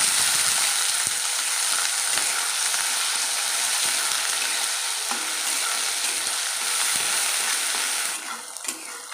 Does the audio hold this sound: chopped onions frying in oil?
yes